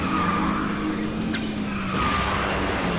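Kart engines drone steadily as a brief tire skid squeals through a drift in KartRider: Drift, with racing game effects and no voices.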